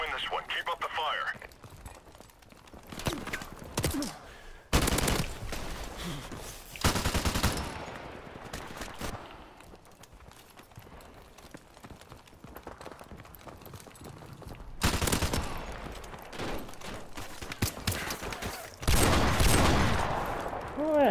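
Rapid bursts of game gunfire crack out in several loud volleys with quieter stretches between, under near-constant talking.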